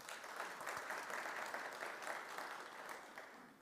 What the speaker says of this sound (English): May I request that we give the chair a round of applause